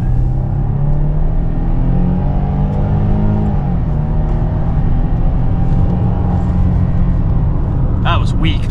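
A Factory Five Type 65 car accelerates hard at full throttle in first gear, its engine rising in a loud, continuous rumbling roar heard close from inside, with the pitch climbing steadily before easing off near the end.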